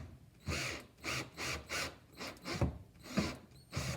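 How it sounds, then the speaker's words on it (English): A power drill drives screws into a plywood rolling tool chest in eight short, evenly spaced whirring bursts, each a brief rising buzz with a slight grinding bite into the wood, close and fairly quiet. "putting the screws in, folks, you don't want to over tighten"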